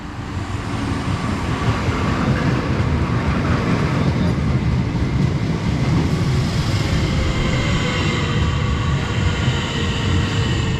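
A Class 465 electric multiple unit, sets 465-002 and 003 coupled, rolls into a platform in Kent with a steady, loud rumble and rail noise throughout, close by, with no talk.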